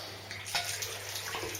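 Water runs briefly from a tap as a razor is rinsed under it, a soft splashing hiss with light spattering, quiet and close.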